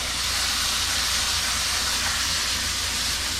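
Scallions sizzling hard in a hot pan with garlic, ginger and cashews for a vegan kung pao cauliflower, a loud, steady, dense hiss with no pause and no voices.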